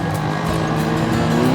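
A Johnson 40 hp outboard motor drives a boat at speed with its trim needing adjustment, a loud continuous engine drone holding steady close by.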